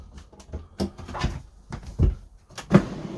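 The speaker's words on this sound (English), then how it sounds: "Drawer to pull it out." A drawer in a 2022 Swift Elite 480 caravan is pulled open and handled, giving a series of close wooden clunks, slides and knocks in an irregular rhythm.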